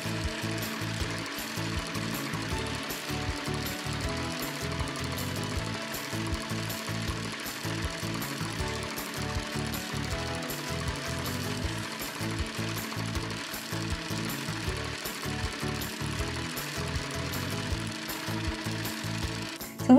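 Cool Maker toy sewing machine running continuously, a fast rapid mechanical rattling and ratcheting close up, steady throughout with no talking.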